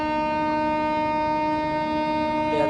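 The Kanniyakumari–Dibrugarh Vivek Express pulls into Chabua station in Assam, giving a steady, sustained tonal blare like a horn or siren that holds loud and even throughout, with no voices.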